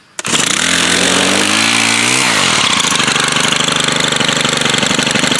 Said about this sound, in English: We'll give it a pull and see how many pulls it takes now that I've actually primed it